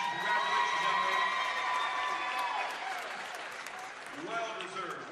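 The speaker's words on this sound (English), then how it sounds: "One more time, a nice round of applause for Kiki." A crowd at a county all-star volleyball event applauds and cheers for a player, a loud wash of clapping with whoops that slowly fades, while an announcer talks over it.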